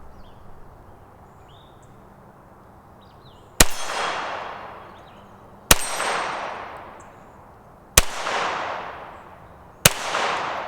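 Four loud, evenly spaced outdoor shots from an FN 502 pistol fitted with a Vortex Viper red dot, each a sharp crack with a long echoing decay, after a quiet stretch.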